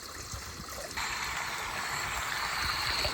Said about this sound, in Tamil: அது சட்டியை வச்சு முதல்ல தண்ணி ஊத்திக்கிறேன்